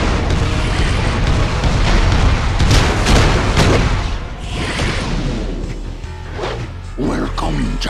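Missile explosions in Justice League Heroes, heavy booms and crashing blasts piling up loudly at first, then subsiding into rumbling debris and scattered impacts.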